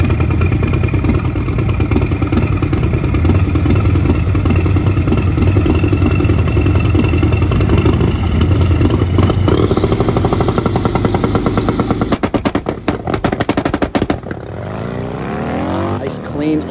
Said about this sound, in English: Launch for Justice out of Louisiana